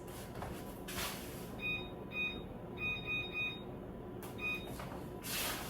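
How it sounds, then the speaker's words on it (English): A kitchen timer being set for bread dough gives a series of short, faint electronic beeps in irregular clusters over steady background hiss, with clicks at the start and end. "I'm going to set the timer for 30 minutes."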